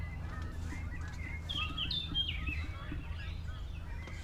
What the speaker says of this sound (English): You hear the birds? They sound like ducks.